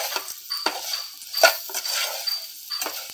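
Banana fry tossed with salt in a pan, the spoon scraping and clinking against the metal in a few irregular strokes over a faint sizzle, close and moderately loud with no voices.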